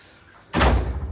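A door shuts with a single abrupt, loud slam-thud that rings on briefly after a quiet start.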